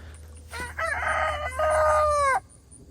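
A Buff Orpington rooster crows loudly and close by, one long drawn-out call with a rising start and a sustained, strained ending.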